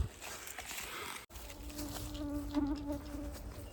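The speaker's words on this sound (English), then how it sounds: "the mosquitoes are horrid here" Insects buzz and whine steadily at a campsite overnight by an old fort, with a persistent thin drone rising and falling close by over outdoor background noise, and a brief dropout partway through.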